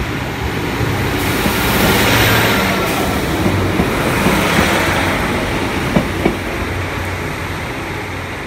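A Great Western Railway train at Exeter Central station, a loud steady rumble and roar of the train moving along the platform, with a couple of brief clanks near the end and no talk.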